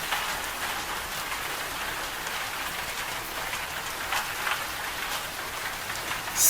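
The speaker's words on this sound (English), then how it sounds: "I'll be listening to the beautiful rain falling outside." Rain falls outside in a continuous, even patter of drops on surfaces, steady throughout with a slight swell at the very end.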